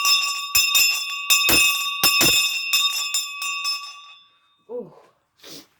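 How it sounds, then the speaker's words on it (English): A brass school hand bell is rung in a dining room, a series of loud, sharp clangs in an uneven shaking rhythm with long ringing overtones that fade out, followed by a brief voice. "I'm going to ring the school bell, imagining that I'm in Victorian times."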